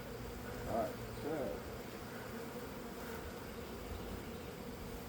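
A low, continuous buzz of many honeybees around a hive, freshly installed from a package, fills the air, fairly faint and steady, with a couple of brief louder swells.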